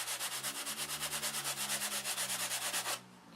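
A sanding block worked back and forth over balsa wing center sheeting to knock down lumps, giving a steady rhythmic rasp of even strokes, close and loud, that stops abruptly near the end.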